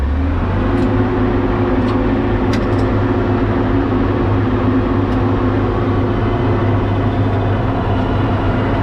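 A tractor engine pulling a Pöttinger one-pass seed drill at night drones steadily and loudly throughout, a continuous low mechanical rumble with no talk.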